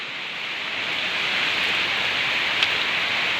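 Heavy rain pours down steadily after three days of on-and-off downpour, a dense, even hiss that stays loud and unbroken throughout, with no voices.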